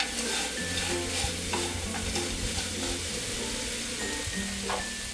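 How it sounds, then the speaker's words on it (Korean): Fried anchovies, walnuts and almonds are stirred through bubbling gochujang sauce in a pan, giving a steady close sizzle with soft scraping and clattering throughout. "양념이 바글바글 끓어오르면 볶아둔 멸치와 호두, 아몬드를 넣고 양념이 고루 묻도록 슬쩍 섞어주세요."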